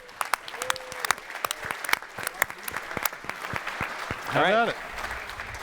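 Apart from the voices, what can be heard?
audience applause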